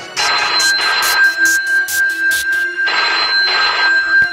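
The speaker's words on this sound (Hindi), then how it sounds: "रुक जो बाबू रुक जो हम फोन लगावा तनी अपना ससुराल में" A telephone rings loudly and close in repeated electronic bursts with a steady tone running underneath, pausing briefly before the ringing resumes.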